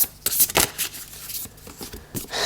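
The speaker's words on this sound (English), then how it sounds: "I shuffled. I really shuffled." A tarot card deck being shuffled by hand, with a run of quick papery riffles and soft slaps, close and fairly loud, no talking.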